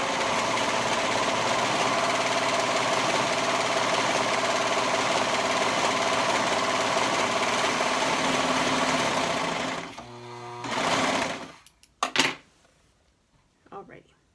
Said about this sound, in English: we will stitch up the other sleeve